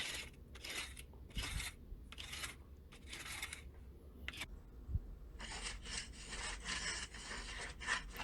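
A tool scrapes an old, 100-year-old basement wall in rhythmic rasping strokes, then in one longer, continuous scrape. The scraping is close but fairly quiet.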